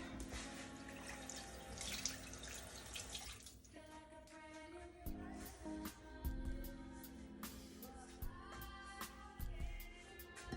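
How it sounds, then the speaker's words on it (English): Faint running water pours from a kitchen tap while a hand is rinsed during brownie making. The water flows steadily for several seconds with small splashes and drips. "Rinse my hand right quick."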